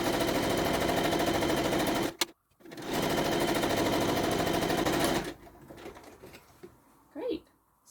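A sewing machine stitches down the side of a little handbag, its rapid needle chatter running loud and close, pausing briefly, resuming, then stopping as a voice talks.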